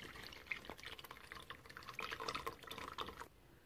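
Cooked tamarind pulp being strained, with liquid dripping and trickling steadily into a bowl, soft splashy patters clustered close by, no talking.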